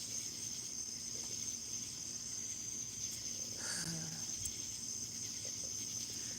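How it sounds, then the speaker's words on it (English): Steady, high continuous drone of cicadas filling the night air, unchanging and fairly quiet, with a faint brief murmur partway through. "All you hear is cicadas."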